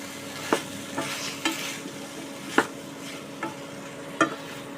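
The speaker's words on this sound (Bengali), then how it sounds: "ডুমো করে কেটে রাখা বেগুনগুলো এই সময় দিয়ে খুব ভালো করে নাড়াচাড়া করে নেব" Diced eggplant and peas frying in a wok over medium heat while being stirred: a steady close sizzle broken by about six irregular spatula scrapes and knocks, with no talking.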